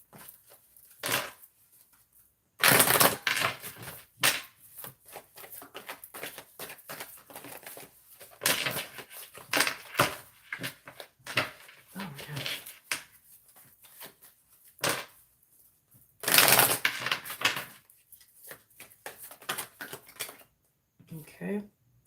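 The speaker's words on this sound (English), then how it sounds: "Let me see if I can get a couple more cards from this deck." Tarot cards drawn and shuffled from a deck, a string of sharp close riffling and slapping bursts scattered between pauses, with a couple of louder flurries.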